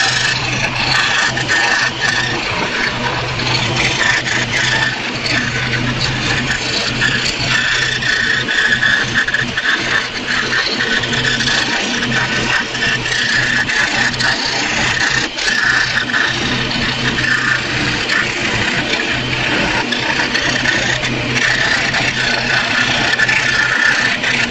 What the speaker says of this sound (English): let me get this sanded up